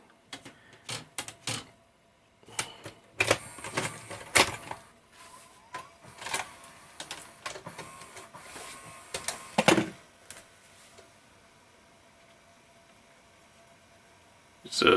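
A JVC HR-S8600 Super VHS VCR tape mechanism running with its cover off, giving scattered clicks, ticks and short whirring bursts that come and go, fairly close, with a faint steady hum underneath.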